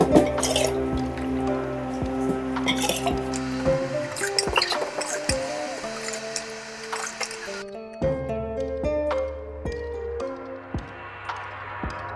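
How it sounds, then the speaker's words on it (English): Kombucha sweet tea pours into glass jars, with close dripping, trickling and faint glassy clinks over steady background music. "I'll pour it in to the jars"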